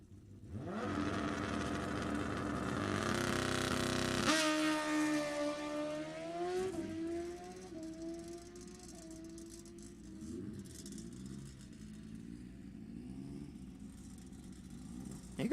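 Suzuki and Kawasaki drag-racing motorcycles roar through a final round at a raceway, engines climbing in pitch through rapid gear changes, loud at first and then fading as the bikes pull away; no talk.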